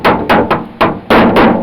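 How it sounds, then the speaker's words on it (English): A masonry hammer with a long end beats the door edge of a 1980 Dodge D150 pickup, giving six sharp metallic strikes in an uneven rhythm, close and loud, with no voices. "I took this masonry hammer that's got this long end here"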